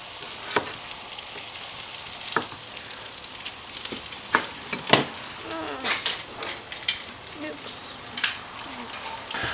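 Bacon frying in a pan for a burger, a steady close sizzle with sharp spattering pops and occasional utensil clicks, with a voice talking over it in places.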